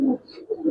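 Giribaj pigeons in a loft give a short, close coo in two soft low pulses, heard alone without talk.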